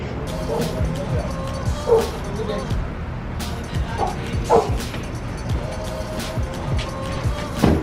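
A puppy lets out several short, scattered yips and barks at moderate distance, over a steady background hum.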